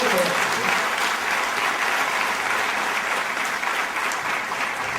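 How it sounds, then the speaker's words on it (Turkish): Audience at a company training seminar applauds a speaker being introduced, a dense, sustained wash of many hands clapping in a hall, loud and steady throughout. "Alkışlamanızı da rica edeceğim"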